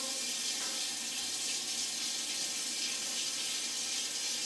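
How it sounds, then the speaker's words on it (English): A pot filler tap runs steadily into a brew kettle in a home brewery, a continuous bright splashing and hissing stream of water, close and unbroken throughout. "As you can see, the pot filler takes over."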